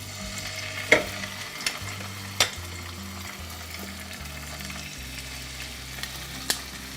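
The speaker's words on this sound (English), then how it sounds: "I'm going to take my salmon that's been seasoned, remember, place it the skin side up" Seasoned salmon fillets, about half to three-quarters of an inch thick, laid skin side up in hot oil, sizzle with a steady broad hiss, punctuated by a few sharp clicks and pops of utensils against the pan.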